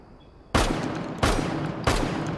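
Ela's shotgun firing in the video game Rainbow Six Siege, three loud close blasts spaced about two-thirds of a second apart, each with a short decaying tail and no talking.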